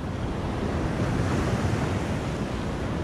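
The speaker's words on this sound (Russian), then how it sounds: "Кстати, волны поднимаются." Winter sea waves on the Crimean coast make a continuous, rushing roar of surf, mixed with gusty wind buffeting the microphone, loud and unbroken throughout.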